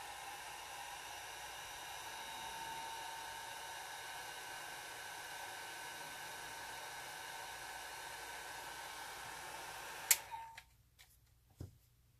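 A heat tool run on its low setting to dry alcohol ink, giving a steady airy whir for about ten seconds before it clicks off, followed by a few faint taps.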